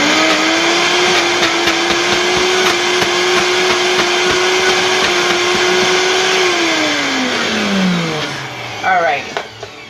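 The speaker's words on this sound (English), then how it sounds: "This is a powerful blender." A powerful blender chops cauliflower into rice, running with a loud steady motor whine that holds for several seconds, then drops in pitch as it winds down, ending in a short clatter.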